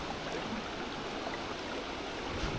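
Fast-flowing broken water tumbles over rocks in a river in North East Victoria, a steady broadband rush that stays even and close throughout with no voices.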